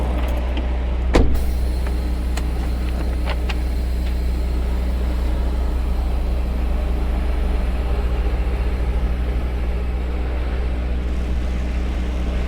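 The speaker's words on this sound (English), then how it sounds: "now the gate opening" An electric gate opens with a steady motorized hum, a sharp click near the start, and a continuous mechanical drone heard close up, with no one talking.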